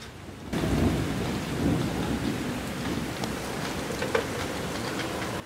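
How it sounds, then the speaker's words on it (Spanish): Thunderstorm over Santiago with steady heavy rain hissing on surfaces and low rumbling thunder rolling throughout, plus a sharper crack near the end, close and continuous with no voices. "La danza tormenta eléctrica"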